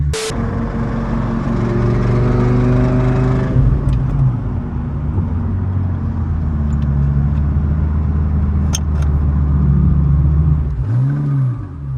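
A 2000 HP Lamborghini on Toyo R888R tyres accelerates hard, its loud engine climbing in pitch through gear changes, then a final sweeping rev near the end, close and alone without talk.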